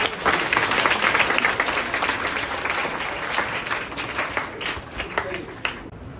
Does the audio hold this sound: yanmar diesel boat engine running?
no